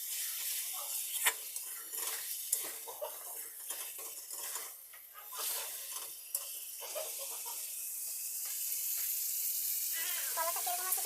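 Egg and potato curry frying in a pan after a splash of water, with a continuous hiss and sizzle broken by repeated clinks and scrapes of a spoon against the cookware.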